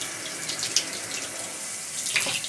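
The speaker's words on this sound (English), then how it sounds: "You're just going to rinse your salmon off with warm water" Warm tap water runs over thick salmon fillets in a kitchen sink, making a steady close splashing stream with a few brighter splashes and no voices.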